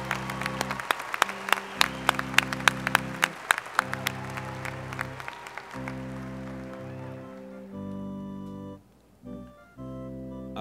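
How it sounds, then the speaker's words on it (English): A crowd at West Virginia University's Davis College commencement applauds the forestry and natural resources graduates. Dense clapping runs for several seconds, then fades out as a sustained organ-like chord carries on alone. "A round of applause for all our graduates from forestry and natural resources."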